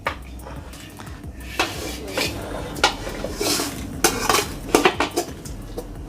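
Spices dry roasted in a pan for homemade kulambu chili powder, stirred with a metal spoon that scrapes and clinks against the pan in repeated bursts, close and clear with no talk.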